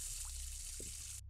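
A water tap runs in a bathroom in the Ghost Watchers video game, a brief, quiet, steady hiss of flowing water with faint trickles that cuts off abruptly at the end.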